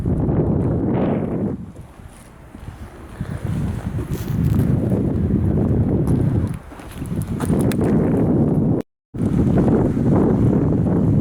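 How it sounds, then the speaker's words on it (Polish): Strong outdoor wind buffets the microphone in heavy low rumbling gusts, loud and close, easing briefly twice before surging again, with no talk, at a Christmas fair. "Ale wiatrek się zrobił przez co jest chłodna."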